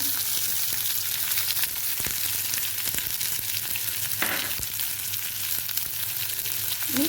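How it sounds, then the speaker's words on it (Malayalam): Onion, green chili and ginger fry in a hot pan with a steady, close sizzle and occasional soft stirring scrapes, continuous and even in loudness with no voices. "സബോള ഇടാം അതിനുശേഷം പച്ചമുളക് ഇത് മൂന്ന് അത്യാവശ്യം എരിവുള്ള പച്ചമുളക്"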